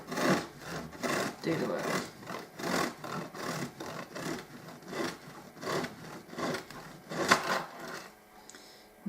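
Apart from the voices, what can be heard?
serrated knife sawing through food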